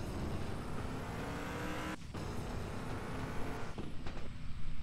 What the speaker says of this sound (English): give this thing a shot of nitrous.